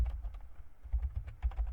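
Keys on a computer keyboard clatter in a quick, uneven run of close, crisp taps that lasts under two seconds.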